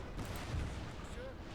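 Distant, muffled cannon booms rumble through a 2010 strategy game battle set in Italy, low and continuous with overlapping blasts, while people talk over it.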